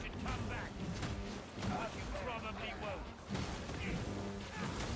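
Video game explosions from a ground-blast attack go off as a run of muffled booms and crashing bursts, repeating irregularly at a fairly low level.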